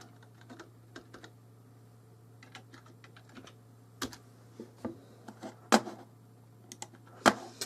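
Close keystrokes clatter on a computer keyboard in uneven bursts, with a few louder key presses, over a faint steady hum.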